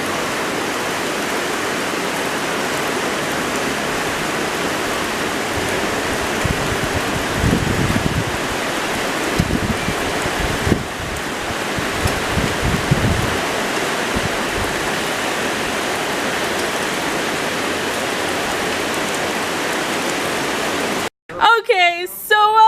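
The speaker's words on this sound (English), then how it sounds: "That sound you hear is the wind and the creek, or river, as we're gonna call it today." Wind and a creek rushing outdoors make a steady, full broadband roar that holds for about twenty seconds, then cuts off abruptly with a brief clatter at the end.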